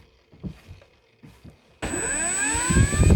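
A gyrocopter rotor on a Jeti-controlled model spins up suddenly after a few quiet knocks, its engine whine climbing steadily in pitch and growing louder, close and continuous.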